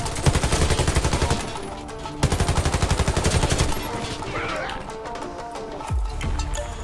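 Rapid bursts of automatic gunfire from the online shooter Warface, two loud rhythmic volleys with a pause between, followed by quieter scattered game sounds and a low thud near the end.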